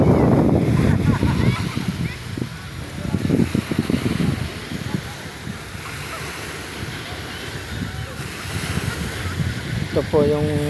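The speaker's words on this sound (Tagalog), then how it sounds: "Ang laki po ang alon." Big ocean waves at Villa del Prado, Sariaya, Quezon surge and wash in loud bursts, with wind noise and a person talking over the surf.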